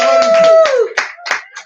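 Applause effect of an audience clapping on a podcast, a short run of claps mixed with a voice, then a few quieter separate bursts.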